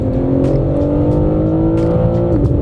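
BMW M3 Touring twin-turbo six under launch control on a rally stage, a loud, sustained engine drone with rising harmonics and a gear change near the end, heard from inside the car.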